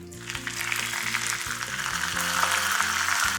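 Curry leaves sizzle and crackle in hot ghee for a few seconds, a bright steady hiss over quiet background music.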